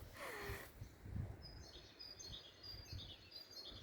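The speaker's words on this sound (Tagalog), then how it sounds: "Pakinggan nyo ang mga ibon." Small birds chirp and sing from the trees near old stone ruins, soft high calls scattered faintly over a quiet outdoor background, with no talking.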